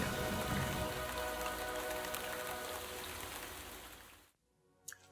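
Steady rain patters on a surface, a dense continuous hiss heard alone that stops abruptly near the end, followed by a brief faint tap.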